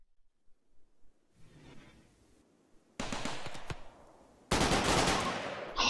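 Automated turret gunfire in RimWorld: bursts of rapid, loud shots, a sharp volley breaking in midway and a second, denser sustained barrage near the end, with no talk over it.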